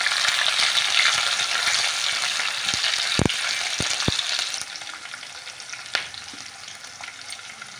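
Onions and finely cut dried red chillies fry in a pan for Andhra-style pappu charu, giving a steady bright sizzle throughout, with a few soft clicks and knocks of a utensil against the pan.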